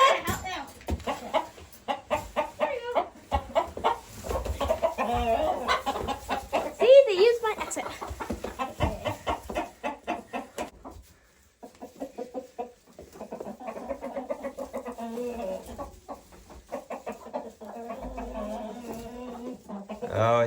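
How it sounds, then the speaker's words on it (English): Chickens cluck intermittently at a barn chicken coop while a person talks over them, the birdsounds mixed in with speech and rustling throughout. "Oh, it's so nice to have chickens again."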